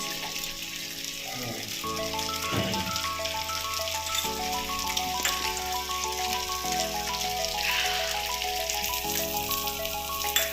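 Coated bangude (mackerel) fish frying in oil on a tava, a steady soft sizzle with light spattering, with music playing over it.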